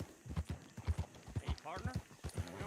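Horse hooves clip-clop at a steady riding rhythm in Red Dead Redemption 2, with voices talking over the hoofbeats.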